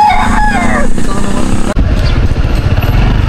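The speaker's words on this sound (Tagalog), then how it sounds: "May hawak tayong manok." A rooster held close at a beach resort in Matabungkay crows loudly in a rising, warbling call, followed by a low engine-like rumble.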